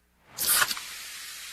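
Pepsi Zero Sugar cola gives a sharp fizzing hiss that swells quickly, peaks for a moment, then settles into a steady, softer carbonation hiss, close and alone.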